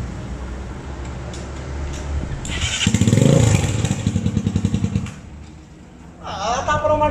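A turbocharged Honda CB 300 motorcycle with a priority valve is cranked over, catches with a loud rattling burst, then settles into an uneven, lumpy idle before revving again near the end.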